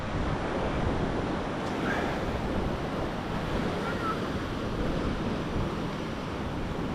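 Heavy surf rolls onto a beach at Playa del Carmen after a hurricane, a steady, loud, unbroken roar of breaking waves mixed with wind buffeting the microphone and no voices.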